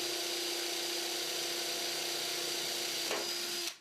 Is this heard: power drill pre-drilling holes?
yes